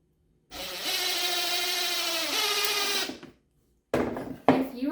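A power drill whirs steadily for about three seconds driving a screw into a wooden book stand, its pitch shifting as the screw bites, then stops; a short burst of drilling follows.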